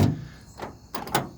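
A locked door on a 1976 or 1984 Chevy C30 one-ton truck being tried: a few short knocking clunks of the handle and latch, close and fairly loud, with no talk.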